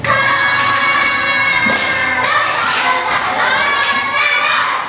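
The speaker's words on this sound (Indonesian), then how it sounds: "Kita kasih tepuk salut untuk Anjani." A class of fifth-grade primary school children in a classroom chant loudly in unison and clap together in a 'tepuk salut' routine for a classmate, their raised voices filling the room, with a few sharp thuds among them.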